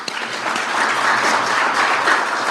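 Audience applause for Mr. Burton at a Rotary gathering, a steady dense burst of many hands clapping that holds evenly throughout with no talk over it.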